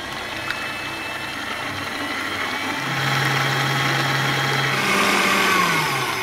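An electric mixer whips cold cream with cocoa in a continuous whirring drone, with the motor pitch shifting partway through, close and moderately loud with no talk.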